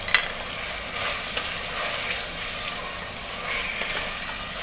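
Onion quarters sizzle in hot oil with mutton for mutton do pyaza, a steady close frying hiss with light stirring scrapes throughout and no voices.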